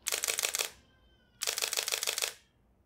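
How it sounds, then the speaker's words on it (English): Two quick bursts of a Fujifilm X-T4 mechanical shutter, each a rapid rattling string of crisp clicks lasting under a second, separated by a brief pause, close and clear. "With the mechanical shutter, you have the physical curtains going up and down and covering and uncovering the sensor between each frame"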